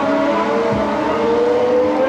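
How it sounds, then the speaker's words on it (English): Pro Legend race cars lapping the Concord Speedway oval during a 1996 winter shootout, a dense, steady roar of several engines droning together at close range with no voices. "Jeff Wright just kind of takes it to the high side, allows the leaders to go by as he goes 1 lap down"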